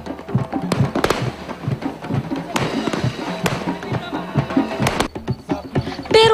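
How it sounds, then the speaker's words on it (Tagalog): Fireworks display over Panglao Island in Bohol, a rapid run of sharp bursts and crackles at a night fire-dancing show, dense and fairly loud with crowd noise underneath. "Dinagdagan pa ng magagarang fireworks display."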